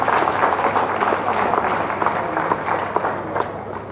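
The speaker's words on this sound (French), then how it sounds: "Cela devrait s'applaudir" Applause from an audience of women at a Ramadan fast-breaking gathering, a dense patter of clapping with crowd noise that keeps a steady level and fades slightly toward the end.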